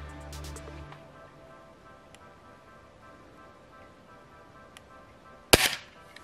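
A single sharp gunshot cracks loudly near the end of an otherwise quiet stretch during a shooting contest at a cabin, with a brief low thump at the start and no talk.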